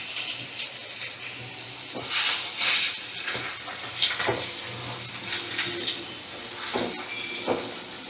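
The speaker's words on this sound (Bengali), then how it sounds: "মাথাটা ভালো করে ভাজা ভাজা করে নেব" Hilsa fish head sizzling in oil on a medium flame, a steady close hiss and spatter with louder bursts of crackling throughout.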